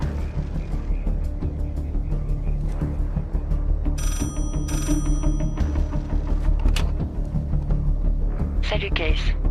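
Telephone ringing in a French-language action video game, a repeated electronic ring running continuously beneath dense music and game sound throughout.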